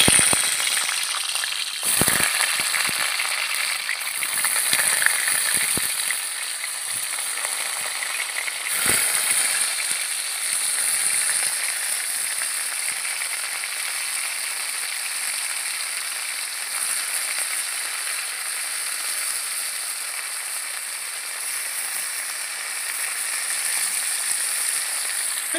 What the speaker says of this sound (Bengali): পনিরগুলো এখন আমি ভেজে নেব।